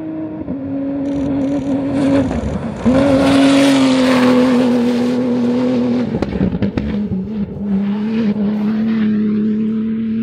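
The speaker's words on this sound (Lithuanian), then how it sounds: "Pirmas automobilis iš tolo girdisi." A Dakar 2025 rally car approaches from a distance and passes close by, its engine droning at a steady pitch with rising and falling revs, loud and near, then fading slightly as it moves away.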